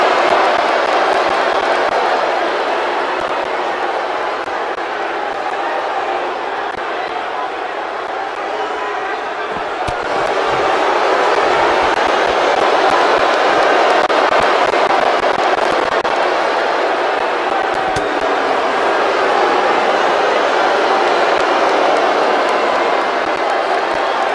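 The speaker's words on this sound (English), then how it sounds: "This capacity crowd is beside itself." Capacity arena crowd in the WWE 2K19 wrestling video game roars continuously, a broad cheering wash that swells midway, with a commentator talking over it.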